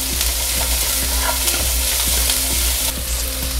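Onion fries in oil in a nonstick pan, a dense close sizzle with occasional stirring taps over a low steady hum, continuous and without talk.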